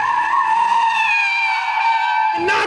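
A 2022 Audi RS3 drifts with a loud, sustained tire squeal, a high, steady screech over the engine that ends in a brief burst of noise.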